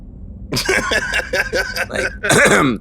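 A person clears their throat with a series of rough, guttural rasps, close and loud, ending in a harder final hack.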